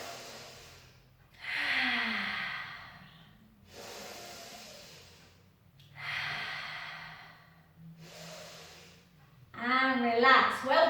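Deep breaths during a Pilates core workout come as several long, loud hissing inhales and exhales close to the mic, repeating in a slow rhythm with pauses between them, and a voice speaks at the end.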